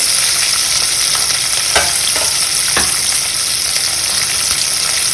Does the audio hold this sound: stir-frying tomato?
yes